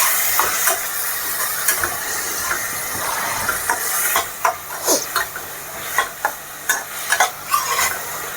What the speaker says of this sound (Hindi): प्याज को बीच बीच में चलाते रहें, बिल्कुल जले नहीं।